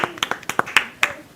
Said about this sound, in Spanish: Un aplauso para Faría, Faría.